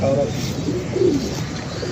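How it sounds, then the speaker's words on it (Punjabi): Pigeons coo softly in short rolling phrases against a steady background hum, the calls close and repeated a few times. "ਦੇਖੋ ਕਬੂਤਰ"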